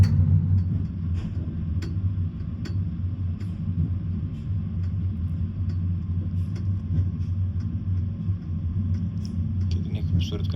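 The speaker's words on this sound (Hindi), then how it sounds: "ज़बरदस्त स्पीड है इसकी, 200 किलोमीटर प्रति घंटे की रफ्तार से चलती है।" A high-speed train on the Tashkent–Almaty route runs with a steady low rumble heard from inside, with faint clicks and rattles over the constant drone.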